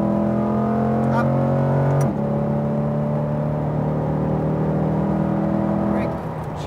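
A Chevrolet Corvette C8 accelerating on a track, its engine holding a strong, steady droning tone that shifts pitch around a gear change, heard from inside the car with a voice talking over it.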